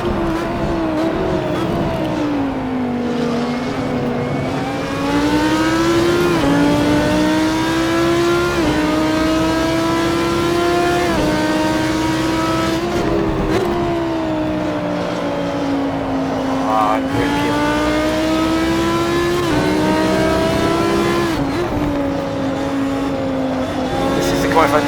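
GT3 race cars lap the Red Bull Ring in the Assetto Corsa racing game, with engines rising and falling in pitch through repeated gear shifts, loud and near, while a voice talks over the engine noise.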